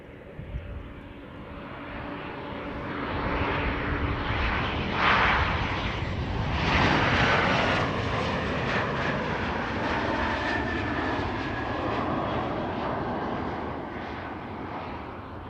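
British Airways jet at Amsterdam Schiphol Airport, a broad loud engine roar that builds and sustains, then eases slightly, heard from a spotting position without talk.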